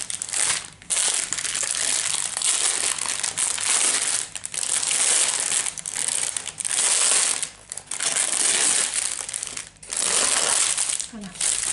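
Plastic bags of beads being handled, a close continuous crinkling and crumpling of thin plastic in bursts with brief pauses, loud and near.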